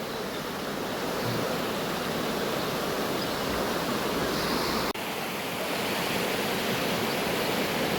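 A river flows steadily beside a campsite in Perak, a broad continuous rushing wash of water that stays even and fairly close throughout, with no voices.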